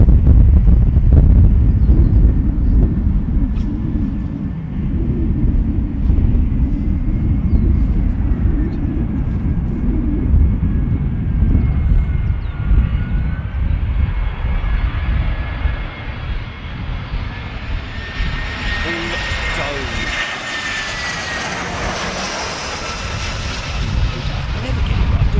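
An Etihad Boeing 787 lands in a gusty crosswind at London Heathrow, its engine roar loud and steady beneath wind buffeting on the microphone, rising into a higher whine toward the end as it passes close.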